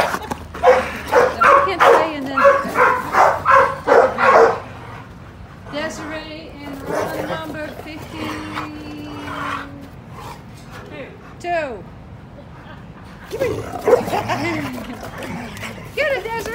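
A dog barks and yips repeatedly while playing outside with a toy, loud bursts at first and then intermittent whimpers and yaps, with a person talking in between.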